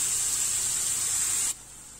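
Mushrooms and onion frying in a pan give a steady, loud hiss of spattering steam that cuts off sharply after about a second and a half, leaving a quieter, softer sizzle behind.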